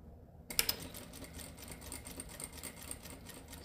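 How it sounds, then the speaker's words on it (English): A home sewing machine stitches a half-inch seam on a dress mock-up for a Vogue pattern, a quick rapid needle rattle starting abruptly and running steadily, close and fairly quiet. "We're going to sew this at 1/2 inch."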